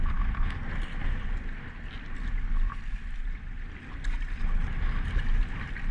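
Wind roars steadily across the microphone at Deception Pass, a loud buffeting rush with low rumble and a faint water-like wash beneath, no voices.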